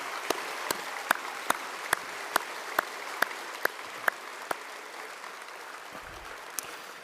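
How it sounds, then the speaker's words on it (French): A crowd at a sports complex inauguration applauds in a soft, distant wash, with a few sharp individual claps standing out in a slow, regular beat before the rhythm fades out. "Et je pense qu'on peut encore les applaudir."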